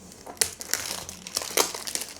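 Plastic wrap on a Japanese Sega Mega Drive Mini 2 box is cut and torn, a close series of crinkling, crackling rustles with sharp snaps, steady for about two seconds with no talking.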